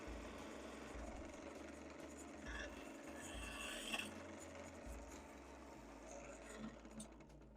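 A skew chisel cuts wood on a lathe, making a faint continuous rasping scrape over the low hum of the spinning lathe, with the cut moving back and forth and soft rubbing shifts along the way.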